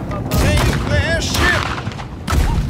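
Grape shot cannon fire from a pirate ship in the video game Blackwake, a loud burst of booming shots under excited voices.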